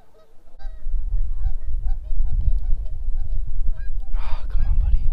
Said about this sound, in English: Those, you know, geese would just stop talking for just 1 second.